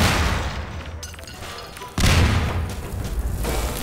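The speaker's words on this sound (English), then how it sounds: "I need to throw that grenade." A grenade explodes in the video game Prop Hunt: one loud, deep boom that bursts in suddenly and rumbles on over continuous game noise, with no talking.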